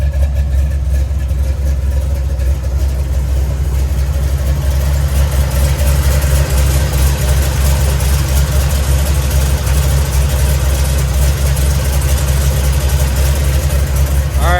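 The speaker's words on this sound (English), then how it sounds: "That big block rumbles nicely." A big block V8 in a 1970 Chevy Nova idling, a loud, steady, deep rumble that holds close and continuous throughout with no voices.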